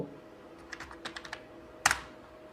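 Keystrokes on a computer keyboard while a line is typed into MS Word, a quick run of light clicks followed by a brief pause and one louder sharp keypress, near and alone.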